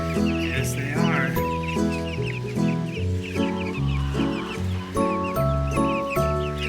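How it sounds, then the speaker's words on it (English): Chickens cluck and chatter continuously on a farm pasture, several birds close by and fairly loud, with overlapping rhythmic clucks and squawks and no talking. "The chicks are out on pasture."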